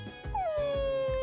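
A dog in Persona 3 Reload gives one drawn-out, falling whimper over a steady rhythmic game soundtrack, close and clear with no talking.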